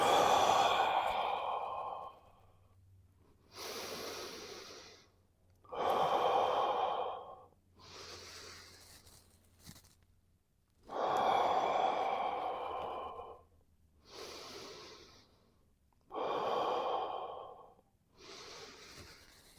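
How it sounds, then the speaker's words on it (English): Slow, deep breaths in and out during a neck and shoulder release exercise, each long inhale and exhale audible and close, in a steady rhythm of about eight breaths with short pauses between them, and no talking. "So I'm breathing in, out."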